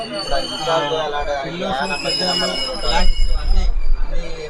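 A train on the line from Mancherial, heard from on board with a steady rumble of wheels and rattling carriages, growing louder with clattering toward the end, under a voice talking.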